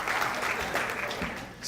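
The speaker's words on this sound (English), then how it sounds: "Let's give him a nice round of applause." Audience applause following a cardiac summit talk on cardiac rehab, a steady wash of many hands clapping at once, dense and continuous for the whole stretch with no pauses.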